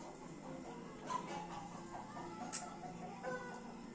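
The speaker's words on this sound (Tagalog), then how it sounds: "nag-aaway ng mga manok." Chickens squabbling outdoors, faint clucks and sharp squawks scattered over quiet background hiss, distant and brief with no talking.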